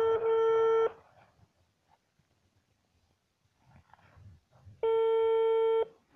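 Telephone ringback tone from a prank call, two long electronic tone bursts separated by a quiet gap with faint murmuring and rustling between them.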